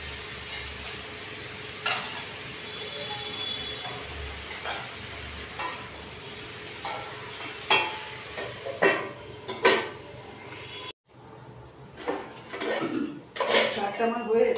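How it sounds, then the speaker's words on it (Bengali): Shrimp are tipped into a pan of cooking malabar spinach, followed by sharp metal clanks and scrapes of utensils and a lid set on top, over a faint sizzle. "এবার মাছটা দেবো, দিয়ে ঢাকা দিয়ে দেবো।"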